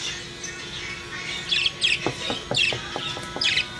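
Pet birds chirp and squawk in short, bright bursts, several sharp calls close by over a steady low hum, with clicky taps between them and no talk.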